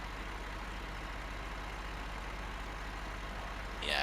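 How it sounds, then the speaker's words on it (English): A backhoe engine in Farming Simulator 2013 runs at a steady low idle, a continuous even drone with no change until a slight swell at the very end. "Oh, let me get my backhoe."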